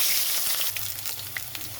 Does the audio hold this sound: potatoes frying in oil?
yes